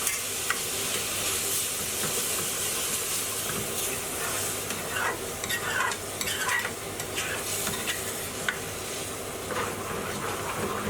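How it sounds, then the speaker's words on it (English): Curry sauce with chicken and coriander being stirred and scraped in a hot pan, British Indian restaurant style: a steady loud sizzle with rhythmic scraping strokes against the pan, close up, without talking. "Adding in the coriander quickly and continue to stir and scrape"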